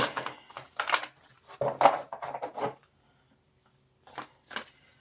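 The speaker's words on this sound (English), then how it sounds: "And we shuffle well, to mix the cards" Cards are shuffled in several quick riffling bursts, close and crisp, separated by short pauses.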